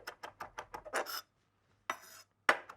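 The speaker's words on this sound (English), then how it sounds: "Finely chop the chili" A knife finely chops a whole chili on a board, a quick run of about eight crisp taps followed by a pause and two more separate cuts, close and moderately quiet.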